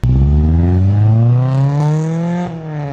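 Honda Integra DC2 engine revved hard toward redline, a loud close single climbing pull with a rich harmonic whine rising steadily for over two seconds before easing off.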